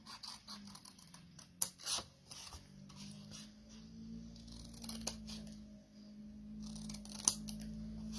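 Scissors snipping and trimming craft pieces for a Christmas box, a few sharp cuts and scratchy rubs spread over quiet, close-up work with a steady low hum underneath.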